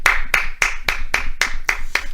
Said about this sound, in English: That's clapping for Mailbag.